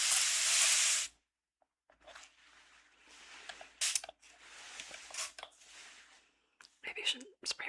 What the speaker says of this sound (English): Can even spray it here.